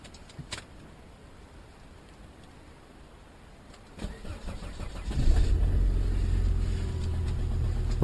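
On a cold morning, a car engine cranks and catches after a quiet pause, then settles into a steady, loud rumbling idle close by.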